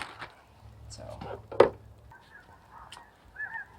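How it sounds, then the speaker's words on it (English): Geese honk from a flock flying overhead at a winter camp, with a few scattered, moderately distant calls and a sharper clatter partway through, while people talk nearby. "we've had these birds flying overhead."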